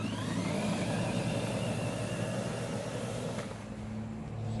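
An EGO 56V rear-wheel-drive self-propelled lawn mower cutting grass, a steady loud whirring motor drone with blade hum that holds constant throughout, easing slightly near the end.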